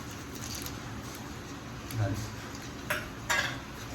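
A spoon stirs crab curry in a pot, Konkan style, with soft clinks and scrapes against the metal, a few louder knocks near the end over a low steady background.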